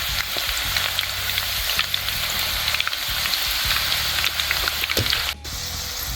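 Banana slices deep-frying in oil for homemade wafers, a loud, continuous bubbling sizzle close by with occasional crackles and scrapes of stirring throughout.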